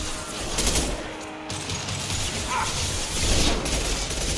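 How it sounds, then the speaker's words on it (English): Rapid gunfire and impact shots from the Mass Effect 2 video game, a dense burst of shots and blasts that holds loud and steady through the whole clip with no talk over it. "Firing an impact shot!"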